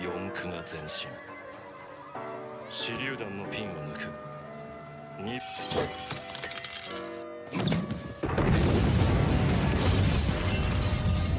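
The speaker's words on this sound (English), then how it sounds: "the way he escapes a planned bomb set up by the enemies" A bomb goes off in an anime scene: tense music and voices come first, then a sharp blast with shattering debris, and a loud, sustained rumble that carries to the end.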